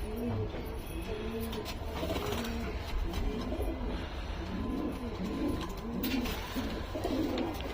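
Madrasi pigeons cooing in a loft, repeated low rolling coos from several birds over a constant noisy background hum, fairly close and without talk.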